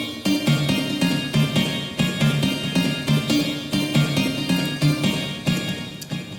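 Generator A in the Amorphous Sounds synthesizer plays alone as a dense, buzzy sustained tone with a repeating pulsing rhythm. The sound is steady and moderately loud, with no talking over it.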